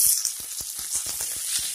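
Potatoes dropped into hot oil with light golden-browned spring onions, giving a soft hissing sizzle with faint rhythmic crackles, low in level and without talk.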